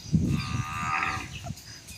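A mother buffalo calls for her calf with one long, close, loud moo that fades near the end, heard alone with no talking.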